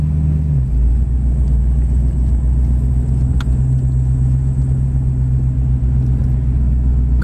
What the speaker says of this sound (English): Car sounds great.